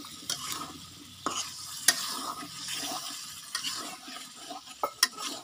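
Potatoes are stir-fried with fish in a pan, with a low steady sizzle under repeated scraping and clacking strokes of a spatula against the pan. No one speaks.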